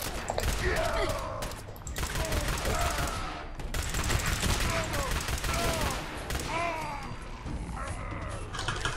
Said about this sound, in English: I'll use my super pistol.